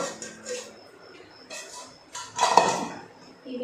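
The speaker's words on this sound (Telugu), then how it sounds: "నేనంతా ఇంకో దాంట్లో వేసుకొని కలుపుకుంటానండి" A spicy puffed rice mixture is tossed and mixed in a metal vessel, producing intermittent clinks, rattles and scraping bursts at close range.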